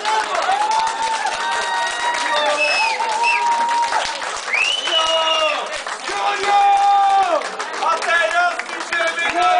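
A wedding crowd applauds break dancers, with sustained clapping and cheering while an announcer speaks loudly over it.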